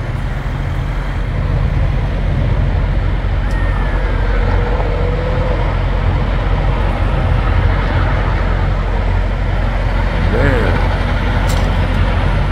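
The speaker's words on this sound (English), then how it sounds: "There's a truck right there" A truck rumbling on a road near a burnt-out site, with a steady loud low engine and traffic drone throughout and a brief air-brake hiss partway through.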